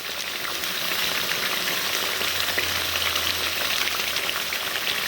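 Soybean curry masala frying in oil in a pan while being stirred, giving a steady, dense sizzle that holds at an even level throughout with no voices.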